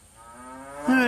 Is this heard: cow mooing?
yes